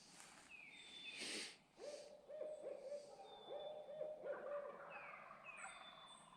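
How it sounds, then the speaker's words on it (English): An owl hoots in the spring woods during turkey season, a series of clear, fairly distant hoots with softer bird calls and gobbles around it in a quiet setting. "You hear that owl?"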